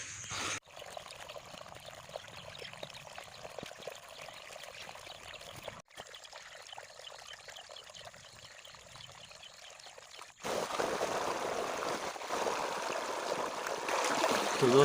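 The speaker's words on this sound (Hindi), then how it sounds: "तो माशाल्लाह पानी बहुत ही तेज़ जा रहा है" Water rushes steadily through a channel, a continuous pouring and gurgling flow that grows louder and fuller toward the end.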